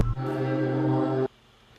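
A short tonal sound effect with reverb added holds for just over a second and then cuts off into a faint, fading tail. It is moderately loud and plays alone.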